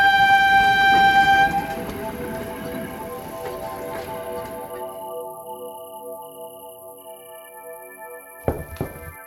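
An animated cartoon train rolls in with a loud, sustained multi-tone horn blast that fades into lingering whistle tones, followed near the end by a short clanking burst.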